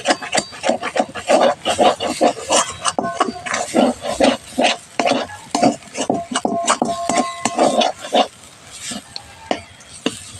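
A spoon scrapes and stirs lote fish mash in a frying pan with a dry, rhythmic rasping, steady and close for most of the stretch before thinning out near the end.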